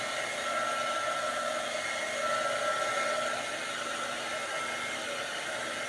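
Hair dryer blowing steadily at close range to dry a craft project, a constant loud whooshing hum with no breaks or talking.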